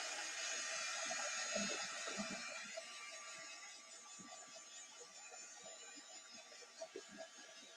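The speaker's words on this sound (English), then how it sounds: "So I'm going to use my embossing tool." An embossing heat tool blowing hot air makes a steady, soft, airy whoosh with a faint motor buzz, running continuously throughout.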